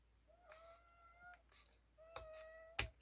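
A kitten meowing close by, several short high-pitched mews in quick succession, faint against a quiet room, ending with a brief clatter.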